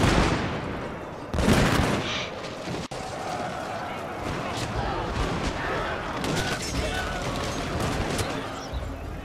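Gunfire from troops in a video game castle battle, a loud continuous din of scattered shots and volleys, with a voice talking over it.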